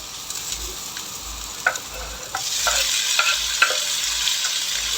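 Garlic and onion sautéing in a pan, with quiet clicks of a utensil at first, then a louder, continuous sizzle as onion joins, punctuated by repeated sharp stirring taps, close by.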